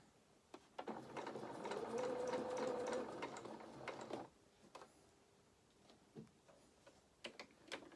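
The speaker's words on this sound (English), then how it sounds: "Try not to sew over your pins if you can help it." A home sewing machine runs in a steady whirring burst for a few seconds while stitching a fox head doll from a beginner pattern, followed by quieter clicks and handling noises.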